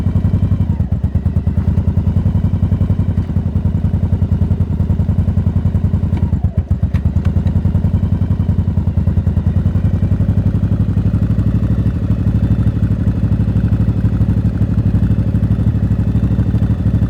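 A motorcycle engine idling a bit high, a loud, close, steady mechanical chug with fast even pulses and light clatter, holding constant with a brief dip partway through and no talk.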